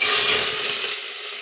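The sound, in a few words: frying spiced rice and lentils in oil in a Hawkins pressure cooker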